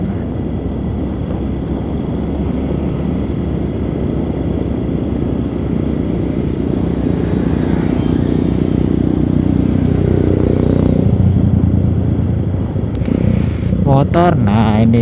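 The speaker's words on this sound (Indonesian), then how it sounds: "nah ini sebelah kiri ini motor, terus sebelah kiri ini motor" Motorcycles pass along a road between a port and an airport in Makassar, a continuous loud engine drone with rising and falling passes, heard from a moving rider's position.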